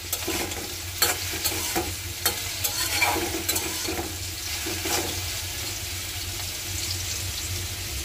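Okra stir-fried in a pan: a steady close sizzle runs throughout, broken by sharp scraping and stirring strokes, clustered in the first half, with no one talking.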